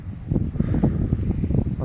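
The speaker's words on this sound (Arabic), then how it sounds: "الريح راهو يضرب بيه رافال" Gusty wind at a cold forest campsite in winter buffeting the microphone, producing a low rumbling, fluttering roar that rises and falls in bursts.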